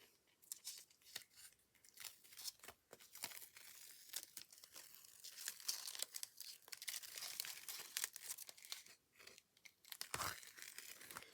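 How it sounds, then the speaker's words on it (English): Tape peeled off a handmade card with a sunrise calendar design, a run of close, crackly tearing and crinkling bursts that repeat irregularly and end in one sharper rip near the finish, with no voices. "Right, so let's take the tape off."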